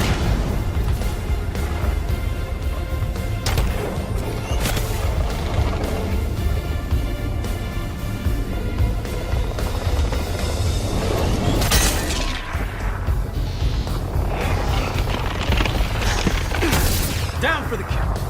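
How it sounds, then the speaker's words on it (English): Thunderbolt missiles exploding in the Marvel's Iron Man VR video game, a continuous battle din of booms, crashes and shattering debris with several sharp blasts standing out, under steady game music and mechanical effects. "Thunderbolt missiles away."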